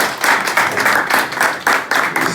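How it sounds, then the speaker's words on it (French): An audience applauds after a speaker is introduced at a presentation event, with steady, dense clapping running throughout at close range. "Sous vos applaudissements, monsieur Brutus Wilgens."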